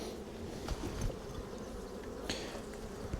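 Honeybees drone steadily inside an opened beehive as a beekeeper inspects the frames, a dense continuous buzz with a few louder passes close by, no talking.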